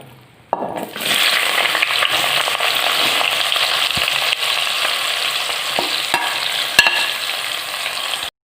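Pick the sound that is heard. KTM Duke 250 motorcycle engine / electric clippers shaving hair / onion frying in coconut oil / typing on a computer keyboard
onion frying in coconut oil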